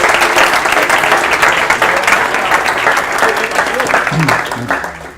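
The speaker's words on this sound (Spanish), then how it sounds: "Un aplauso, por favor." A round of audience applause fills the room, loud and continuous crowd clapping that tapers slightly near the end, where a voice briefly speaks.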